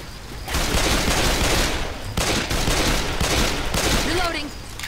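Dense rapid gunfire in the zombie shooter game Left 4 Dead 2, loud continuous bursts filling the clip with brief gaps, sustained and close.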